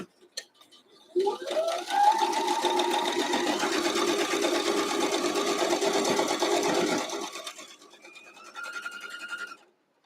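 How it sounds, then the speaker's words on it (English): A sewing machine stitches a quilt block forward and then back to sew off, humming steadily for about six seconds, pausing, then running again in a shorter, slightly quieter burst. "Okay, I'm going to go forward a couple and back a couple. And then I'm going to sew off."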